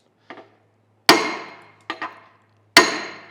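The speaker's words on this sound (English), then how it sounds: "So we're just going to hit it out with a punch here. Got a punch and a hammer. Go ahead and tap it." A hammer striking a steel punch to drive a part out of a Sellers 6G drill grinder during disassembly, four sharp metallic taps spaced unevenly, the second and fourth hardest, each ringing briefly before fading.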